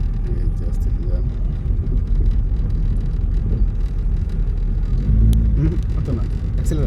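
A motorbike on a riding lesson with a Khulna driving school: a steady low engine rumble with a slight swell near the end, under an instructor's voice giving directions.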